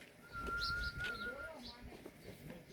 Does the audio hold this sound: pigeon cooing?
yes